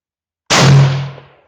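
A single sharp, loud gunshot from a Yugoslavian M48 Mauser rifle at an outdoor range, an abrupt blast after silence that decays over about a second.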